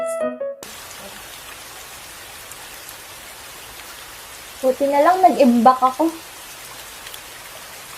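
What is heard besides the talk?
heavy rain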